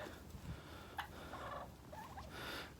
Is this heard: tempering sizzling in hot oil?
no